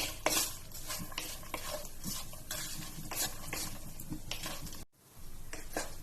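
Garlic frying in a pan for igado gives a close, crackling sizzle broken by regular stirring scrapes, briefly cutting out for a moment near the end before resuming.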